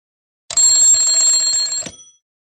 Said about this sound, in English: Dan's alarm clock rings, and he wakes up.